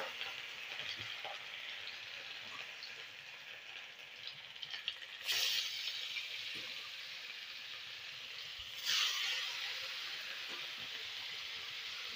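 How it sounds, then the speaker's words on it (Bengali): Hilsa fish pieces fry in oil in a wok, giving a faint, steady sizzling hiss with two short louder spurts of spattering. "এখানে কড়াইতে তেল দিয়ে দিচ্ছি। একটা একটা করে ইলিশ মাছগুলো দিয়ে দিলাম।"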